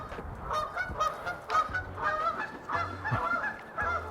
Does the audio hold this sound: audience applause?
no